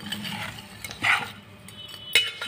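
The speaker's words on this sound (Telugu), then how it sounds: "ఇప్పుడు చికెన్ ముక్కలు వేసేసుకుందామండి. అవి కూడా కలుపుకుందాం." A spoon stirs chicken pieces with salt in a pot while making chicken pickle, giving scattered scraping and clinking knocks, a few sharper metallic taps standing out over a quiet background.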